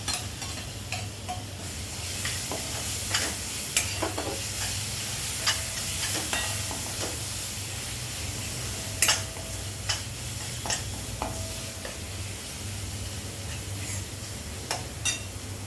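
Onion masala frying and being stirred in a pan for ridge gourd and dal curry, a steady close sizzle broken by frequent scraping, clicking stirs of the spoon, with no talking.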